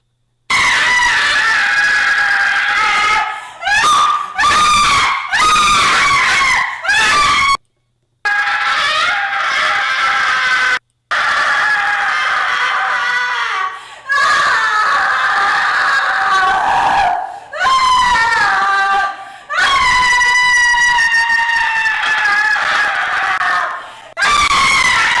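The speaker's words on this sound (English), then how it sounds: "It is 8 minutes of this woman screaming." A woman screams at the top of her lungs in a Danger Music performance, long, piercing and raw, broken by short pauses for breath, loud and close.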